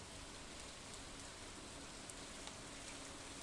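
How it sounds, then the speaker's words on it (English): Rain falls steadily in the farming game Stardew Valley, a soft, even, continuous hiss with a few faint drip-like ticks, quiet and heard alone. "because it's a rainy day"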